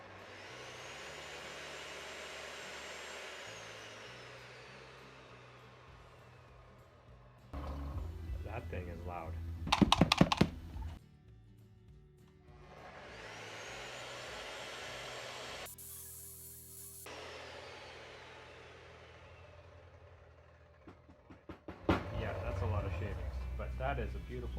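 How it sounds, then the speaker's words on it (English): A new miter saw cuts wood for ladder rack brackets, spinning up into two long, loud whining cuts that wind down, separated by clattering handling noises, with someone talking in between. "I'm excited to try out this new miter saw"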